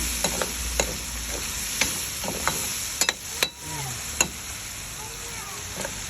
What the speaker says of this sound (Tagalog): Igisa lang natin ng konti ang oyster sauce